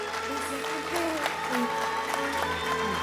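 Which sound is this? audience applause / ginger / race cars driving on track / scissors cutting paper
audience applause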